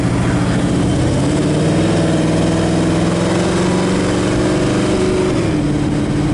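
A 1966 Chevrolet Chevelle SS 396 convertible with automatic transmission runs on a test drive, giving a loud, steady engine drone whose pitch climbs slightly and then settles, with no talking.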